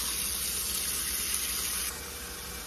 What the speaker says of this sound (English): we're gonna go ahead and run us some cold water